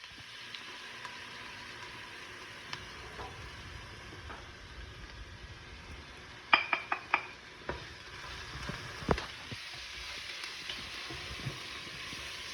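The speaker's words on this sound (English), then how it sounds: "we're going to let this saute for 5 or 6 minutes" Onions and vegetables sautéing in oil in a pan for charro beans give a soft, steady sizzle, broken mid-way by a cluster of sharper clicks and scrapes as they are stirred.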